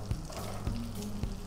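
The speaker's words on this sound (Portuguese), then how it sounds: "eu vou aumentar o fogo, jogar a cebola" Onions sizzle in a hot frying pan over a raised flame after steaks are taken out, a steady close frying hiss broken by a few sharp clinks.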